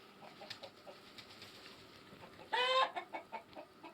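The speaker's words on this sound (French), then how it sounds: "Les poules de Gournay." A Gournay hen's short burst of clucking rises above a quiet farmyard background, followed by a few softer calls.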